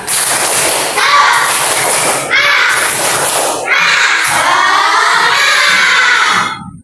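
Schoolchildren in a classroom perform the tepuk semangat clapping chant: loud bursts of rhythmic group claps mixed with shouted voices, in several closely spaced rounds.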